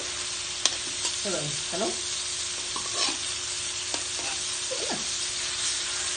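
Food frying in a small amount of oil on a home stove, a steady broadband sizzle throughout with occasional stirring scrapes, and a voice briefly speaking over it.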